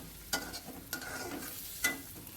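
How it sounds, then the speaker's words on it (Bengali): Onions frying in leftover hilsa fish oil, a soft steady sizzle broken by three sharp scraping stirs of a spatula in the pan, close and fairly quiet. "এবার মাছগুলো তুলে সেই তেলটার মধ্যে আমি কিন্তু কিছু পেঁয়াজ ভেজে নিচ্ছি"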